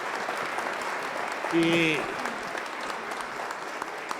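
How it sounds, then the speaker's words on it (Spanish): Applause from the audience at a forum on the 2024 judicial reform, a broad steady clatter of clapping that runs through the whole stretch, with a voice briefly rising over it midway. "Dice el doctor Arturo que se oyen muy forzados los aplausos"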